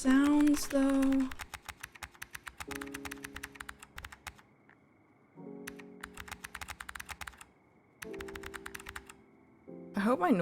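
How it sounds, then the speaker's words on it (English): Rapid clicking keystrokes on a computer keyboard come in bursts with short pauses, close and clear, while a person talks intermittently over the typing. "I hope my noise gate is good enough to not show the sound of my typing IRL."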